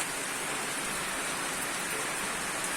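Steady rain falling outdoors, a dense, even hiss of drops that stays constant and fairly soft for the whole stretch, with no voices or other sounds over it.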